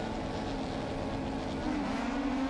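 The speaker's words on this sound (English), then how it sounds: "The revs will build, so will the lights." Rallycross race car engines on the start line at Montalegre hold a loud, sustained drone, the pitch rising slightly as the revs build toward the end.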